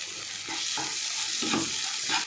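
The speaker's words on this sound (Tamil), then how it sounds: "இந்த தக்காளி வந்து லைட்டாக ரா ஃப்ளேவர் போகிற வரைக்கும் 1 நிமிஷம் மட்டும் வதக்கி விட்டுக்கோங்க." Tomato sautéing in a pan, giving a loud, continuous sizzle with rhythmic stirring strokes close by, no speech.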